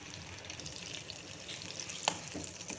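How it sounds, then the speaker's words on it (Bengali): Fried vegetables sizzle steadily in hot oil in a pan as they are lifted out, with a soft continuous crackle, faint stirring and one sharp utensil clink near the end. "এইদিকে আমার সবজি সব ভাজা হয়ে গেছে আমি তুলে নিচ্ছি সবজিগুলো সব"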